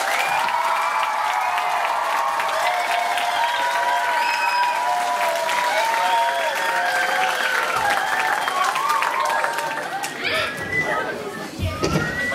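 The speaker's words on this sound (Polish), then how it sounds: "Gorące brawa," Warm, sustained applause from a large audience of children and adults at a patriotic song festival in Konstancin-Jeziorna, dense clapping mixed with crowd chatter and excited voices that thins toward the end.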